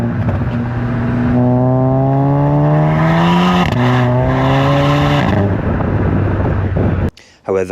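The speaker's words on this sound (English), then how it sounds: "the second thing I absolutely adore about my Scirocco is the sound it makes when it's opened up" A VW Scirocco accelerates hard, its engine and exhaust climbing in pitch through two gear changes, loud and close, before cutting off abruptly near the end.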